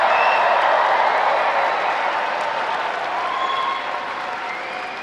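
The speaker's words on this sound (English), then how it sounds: "How about one more round of applause for the class of 2024" An audience applauds the class of 2024 at a high school graduation held in a university arena, with loud, dense clapping from a large crowd that gradually fades over several seconds.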